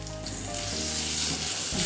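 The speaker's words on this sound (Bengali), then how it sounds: "এটা একটু তেলের মধ্যে আমি নাড়াচাড়া করে একটু হালকা করে ভেজে নিচ্ছি" Food frying lightly in oil while being stirred, for a Bengali fish curry (macher jhol); a steady, close sizzle runs unbroken throughout with soft stirring movement underneath, no voices.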